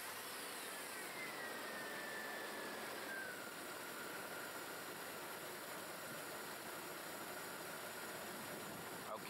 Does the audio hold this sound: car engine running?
yes